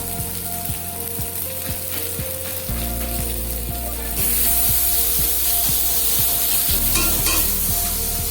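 Spice masala with salt sizzling loudly in a hot pan while being sautéed for a Bengali katla fish curry, with a steady frying hiss and repeated scraping strokes of the stirring spoon.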